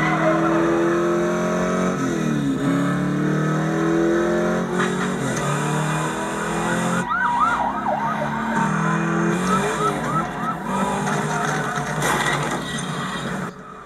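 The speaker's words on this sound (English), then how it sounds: "let's watch some footage of the car in action" A 1970 Chevelle in a filmed car chase, its engine revving and roaring loudly with repeated tire squeals and skids, plus a siren-like wail wavering in and out.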